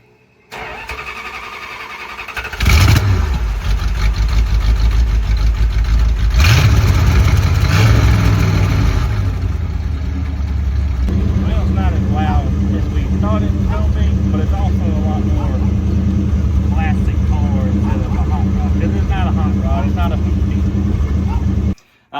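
A 1966 Chrysler Imperial engine with a newly built exhaust cranks and catches twice, then settles into a loud, steady idling rumble with exhaust drone; voices talk over it later.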